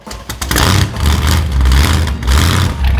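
Big-block 409ci American muscle car engine from a race car, firing up and running loud and close, a steady deep throbbing roar with slight revving swells throughout.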